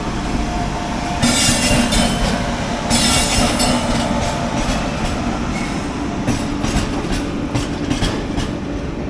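The Brindavan Express, running from Bangalore to Chennai, rumbles loudly through Katpadi station, its wheels clacking and squealing in a steady, continuous roar close by, with no one speaking.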